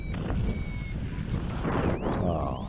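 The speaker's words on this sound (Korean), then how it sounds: "바람이 세게 불고 있기 때문에" Strong wind buffets a paraglider during an emergency landing approach over snow, a loud steady rush broken by surging gusts, with no talking.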